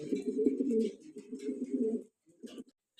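Fancy pigeons offered for sale coo softly in a low, continuous rolling burble that breaks off briefly near the end, with no talk.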